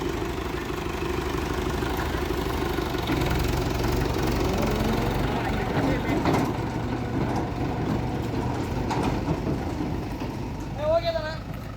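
A Mahindra 575 DI tractor engine runs steadily, a loud close diesel drone and knock throughout, with people talking nearby over it.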